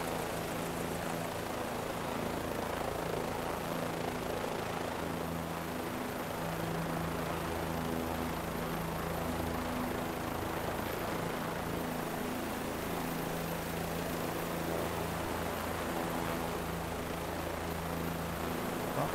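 Steady, even drone of a Bell 407 helicopter in flight in Microsoft Flight Simulator over Guaraí, Tocantins, a continuous rotor and engine hum without breaks that stays moderately faint.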